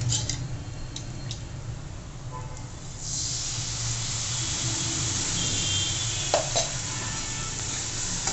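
Water from a rinsed mixer jar hits a hot phodni tempering for a village-style red pumpkin curry, bursting into a loud steady sizzling hiss that carries on for several seconds, with a few small ticks and clinks.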